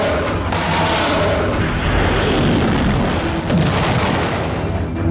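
A loud, sustained roar of explosions from a Ukrainian strike inside Russia, with dense low rumbling and blast noise filling the whole stretch without a break.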